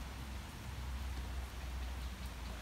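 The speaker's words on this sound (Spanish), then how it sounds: "la lluvia está mojando nuestros frutos" Steady, dense rainfall pattering on a passion fruit vine and garden plants in the countryside, a continuous hiss of drops with no voices.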